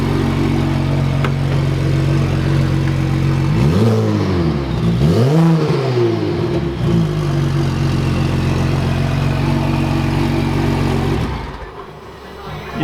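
A Saab Turbo X engine running with the exhaust downpipe off: loud, raw, close idle with two quick throttle blips rising and falling mid-way, then a steady drone that drops off near the end.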